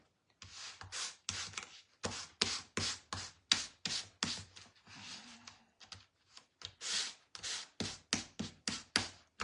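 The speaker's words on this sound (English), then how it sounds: "So let me sand that up a little bit." Sandpaper is rubbed back and forth over a hand-painted wooden Christmas sign, making a rhythmic series of short, dry scratchy strokes close by, about two per second with a brief pause midway, with no talking.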